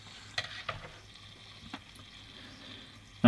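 Water heating in an unsafe electric electrode water heater, fizzing and bubbling faintly with a few soft pops and crackles over a quiet background.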